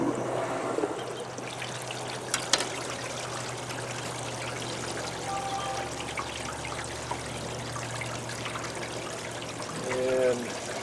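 A thin stream of water trickles and splashes steadily through a small gold wash plant at moderate distance, with a low mechanical hum underneath and a brief voice near the end.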